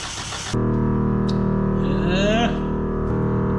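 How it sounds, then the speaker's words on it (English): A Datsun engine cranking over with the ignition coil unhooked, a steady, even starter-motor drone that begins abruptly and runs without catching, close and loud, with a voice briefly heard over it. "I'm gonna unhook our coil because I don't want to start this thing. I'm just gonna crank on it."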